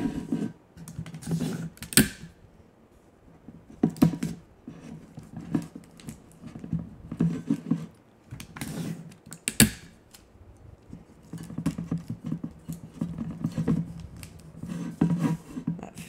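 Tape is pulled and wrapped snugly around a sublimation can for a mug press, making repeated crackling peels and rustles in irregular bursts, close and moderately quiet with no talking.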